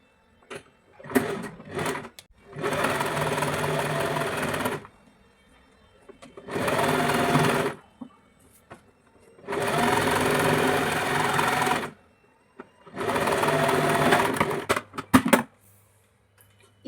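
A sewing machine runs in four sustained bursts while stitching a blouse hem, each burst steady and fairly loud, with short pauses and small clicks of handling between them.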